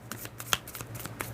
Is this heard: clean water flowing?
no